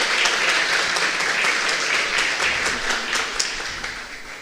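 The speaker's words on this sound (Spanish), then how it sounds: "Fuerte ese aplauso." Audience applause at a philosophy congress in a large hall, sustained dense clapping from many hands with a few sharper individual claps, steady and fairly loud throughout.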